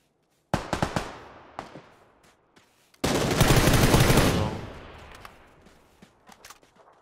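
Loud bursts of automatic gunfire in the battle royale game PUBG on Xbox One, with a few sharp shots followed by a long, sustained barrage that fades out, and scattered distant cracks trailing after.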